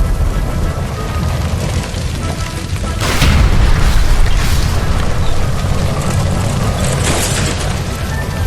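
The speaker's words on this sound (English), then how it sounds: "Shoot the gas line, Cole, we're out of here!" A gas line explodes in the video game L.A. Noire, a loud sustained boom and roar that swells around the midpoint and rumbles on with crackling bursts, dominating the whole stretch.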